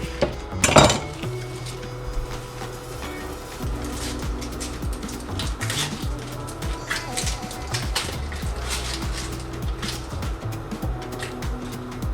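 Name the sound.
cutting a red onion in the kitchen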